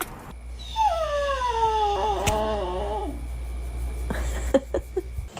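A dog howls in long, wavering, rising-and-falling wails for about three seconds, close and loud over a steady low hum, followed by a few short yelps and sniffs.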